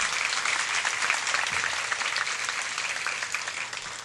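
Dense, steady audience applause at a university convocation, a full hall clapping continuously at an even level throughout.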